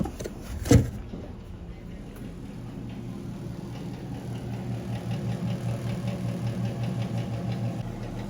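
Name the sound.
kitchen stove extractor fan struggling against wind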